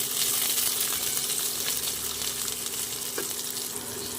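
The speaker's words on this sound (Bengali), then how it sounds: "পেঁয়াজটা লাল লাল করে ভেজে নিতে হবে" Chopped onions frying in a pan with white cumin and slit green chilies, giving a steady close hiss of sizzling oil, a steady hum underneath and one brief clink of a utensil, with no talking.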